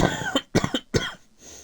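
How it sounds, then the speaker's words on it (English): A person who is unwell coughs close to the microphone in three or four harsh, chesty bursts, each separated by brief pauses, with no talking. "sorry about coughing"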